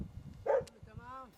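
In the Sudanese desert, a dog guarding a parked car gives one short, close bark at approaching camel riders, set among people talking and a brief whine-like tone.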